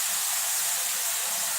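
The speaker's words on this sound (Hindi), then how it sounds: "तेल जो है गर्म हुआ है, मिर्च जो है अच्छे से फ्राई हो गया है तो टमाटर को ऐड करती हूँ" Tomatoes hit hot oil with fried chillies and give a steady, loud sizzle and hiss that fills the whole moment without a break.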